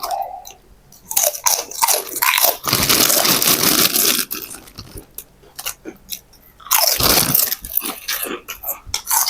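Crispy pork (moo krob) eaten with egg noodles, wontons and crispy kale gives loud, close crunching bites and chews in several dense bursts separated by brief pauses.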